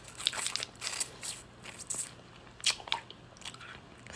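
Skittles-flavoured ice pop bitten and chewed up close, with sharp crunchy bites and icy crackles arriving in irregular bursts between quiet gaps.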